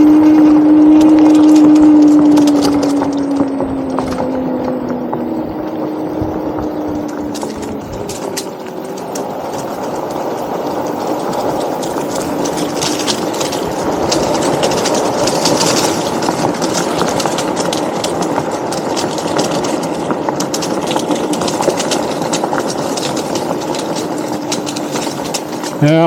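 Electric fat wheel scooter with a repaired battery pack riding over rough ground, a continuous whining motor hum and rattling tyre noise that swells and fades over about half a minute, with no voices.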